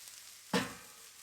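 Garlic hits hot oil in a pan on a kamado grill while cooking lamb jalfrezi, giving one short sharp burst of sizzle that fades quickly into a faint hiss.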